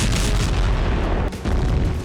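A 3000-kilogram aerial bomb explodes in a war zone, a loud, dense, continuous roar of blast and rumble that briefly dips before surging again.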